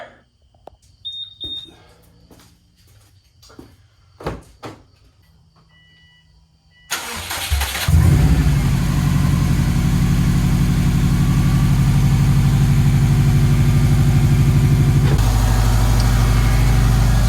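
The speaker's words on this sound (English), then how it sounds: "let it idle for a little while" A 2004 Subaru STI, fitted with a VF48 turbo swapped in from a 2020 STI, starts after some faint clicks and handling noises. The engine catches with a loud crank and settles into a steady, close, rumbling idle that runs to the end.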